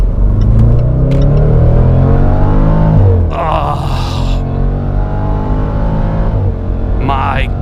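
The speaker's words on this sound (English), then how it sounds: "listen to this V8. It sounds so good" A 2019 Jaguar F-Pace SVR's 550 hp V8 roars loud and close as it accelerates hard on the German Autobahn, rising through gears with brief pauses at the shifts.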